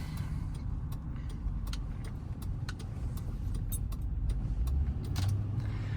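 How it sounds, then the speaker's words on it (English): A 2007 Lincoln Town Car Signature Limited cruising at night, with a low steady road and engine rumble from inside the cabin, quiet and even, with faint light clicks and rattles over it. "this is just a little POV of me driving my town car at night"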